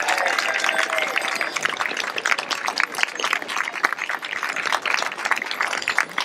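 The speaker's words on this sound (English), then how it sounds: "I think we need to give a big cheer to Melanie." A crowd cheers and applauds at the Pedal on Parliament 2015 cycling rally, a dense, steady roar of clapping and shouts that holds for the whole stretch.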